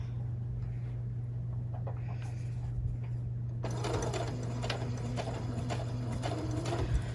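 A sewing machine stitches fabric for a pouch with a vinyl window, with steady rapid needle clatter over a constant motor hum that grows louder and busier partway through, close and continuous with no talk.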